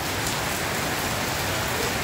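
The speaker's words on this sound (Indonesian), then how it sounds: "khususnya dari semalam itu hujan tak berhenti-berhenti nih loh" Heavy rain pours steadily on surfaces in Batam, a dense, constant hiss of countless drops with no pauses, loud and close, no voices.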